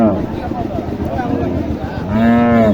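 Cattle moo at a crowded livestock market on a hot day, with a long, loud bellow rising near the end over a steady background of crowd noise and other animals.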